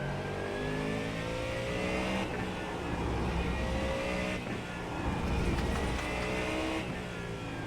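A racing simulator car engine roars as it accelerates out of turn 3, loud and continuous, with rising and falling pitch through gear changes and no talking.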